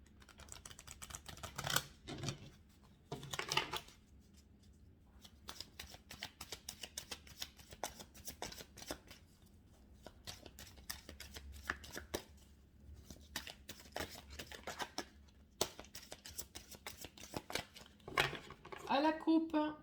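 A tarot deck being shuffled and cut by hand, its cards giving off soft riffling, flicking and slapping sounds in irregular bursts, close and fairly quiet, sometimes with speech over them.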